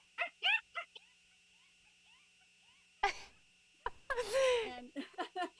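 A human voice imitates an acorn woodpecker with bursts of quick, chattering, squeaky calls, first a rapid cluster, then a brief stretch of talk and laughter, then more clipped calls, all close-up.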